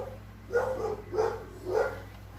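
Three muffled dog barks spaced evenly apart, somewhat distant, over a low steady background hum.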